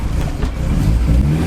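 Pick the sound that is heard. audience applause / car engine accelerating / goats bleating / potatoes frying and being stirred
car engine accelerating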